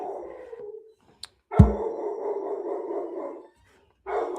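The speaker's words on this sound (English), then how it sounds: "Sorry about the dog." A pet dog gives a short bark and then a long, loud, drawn-out whining howl nearby, followed by another brief yelp, with no talking.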